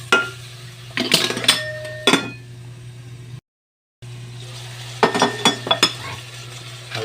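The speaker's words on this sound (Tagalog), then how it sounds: "Gigisahin natin mabuti yan para mawala yung lansa" Native chicken pieces sautéing in a hot pan for tinola, with steady low sizzling under bursts of stirring and utensil scrapes and clinks against the pan, briefly cut to silence midway.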